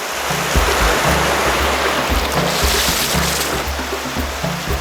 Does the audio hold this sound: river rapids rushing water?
yes